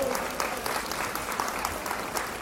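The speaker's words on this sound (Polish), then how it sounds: "Wielkie brawa!" Audience applause at a Christmas concert: a dense, even wash of many hands clapping together, sustained for the whole stretch with no voices breaking through.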